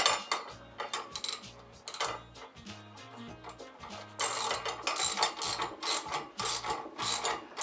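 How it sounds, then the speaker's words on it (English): A 9/16 wrench and socket tightens a bolt on a bumper hook, giving quick ratcheting clicks and metallic clinks, sparse at first and then denser and louder in the second half, close up with no talking. "Now you use your 9/16 wrench and socket or combination."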